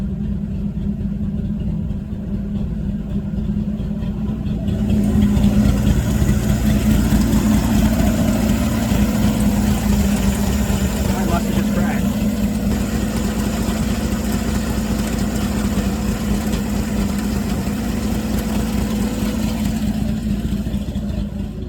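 A 1960 Chevrolet Bel Air engine runs steadily at idle, a loud continuous rumble that swells slightly after a few seconds and holds for about twenty seconds with no talk.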